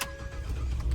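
A 2013 Ford F150 STX with a 3.7L V6 cranks and fires up in a brief, close start that settles straight into a steady low engine rumble, with no voices.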